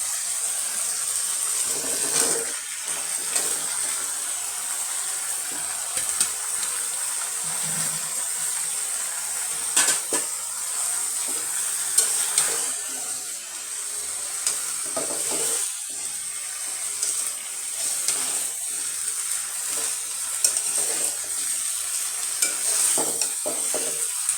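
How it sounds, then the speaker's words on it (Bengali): Hilsa fish and tender bottle gourd sizzle and fry in a pan, a steady close hiss broken by repeated scraping stirs of a spatula throughout. "ভালো করে মাছগুলি একটু কষিয়ে নিলাম, নিয়ে আমি এখন এখানে লাউগুলি দিয়ে দিব।"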